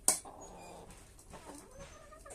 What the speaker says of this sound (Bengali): আমার এই মুরগিগুলা এত বেয়াদব